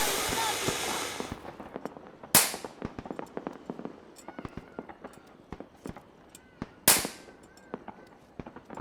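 Firecrackers bursting during Diwali festivities: a hissing burst up front, two sharp loud bangs a few seconds apart, and scattered smaller crackles and pops in between, outdoors.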